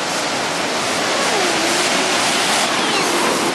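A continuous, loud wash of Mediterranean Sea surf crashing on an Egyptian shore fills the scene, steady roaring water without pauses.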